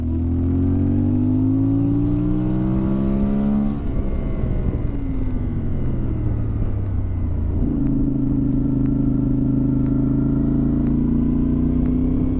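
A CF Moto MT450 motorcycle engine runs loud and close, its drone climbing and dropping in pitch as it revs and shifts, ending in a steady higher hum.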